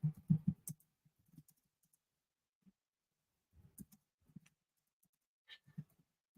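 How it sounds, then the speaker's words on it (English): Computer mouse clicking at a desk, a quick cluster of clicks at the start followed by sparse, scattered single clicks, close and very quiet with long gaps of near silence. "Sorry for all my clicking."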